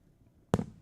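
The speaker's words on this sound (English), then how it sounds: "Fireworks." A single firework blast bursts out suddenly after near-silence, loud and sharp, then trails off in a short crackling decay.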